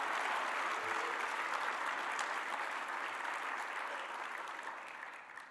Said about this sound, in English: One more round of applause for the Franz Edelman finalist teams of 2024.